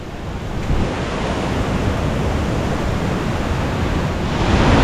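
Water rushes steadily at the meeting point of the Attayar and Vazhappayanthiyar rivers near a waterfall, a dense, continuous roar with no voices that swells slightly toward the end.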